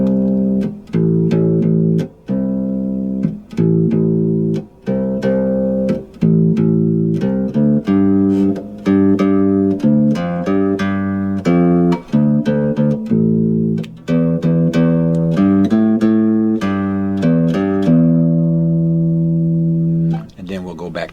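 Bass guitar plays a bridge riff, repeated low notes in steady, rhythmic phrases, with short pauses between groups and a ringing final note.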